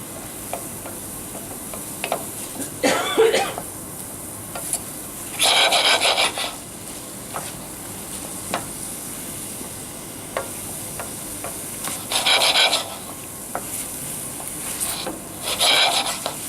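Vegetables cooking in butter in a pan over high heat, a soft continuous sizzle with bursts of scraping and stirring recurring every few seconds, close by and moderately loud, no talking.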